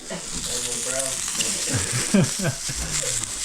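Steady close sizzling of a deer heart and onion frying in a pan, with occasional scraping and clinking of a utensil stirring.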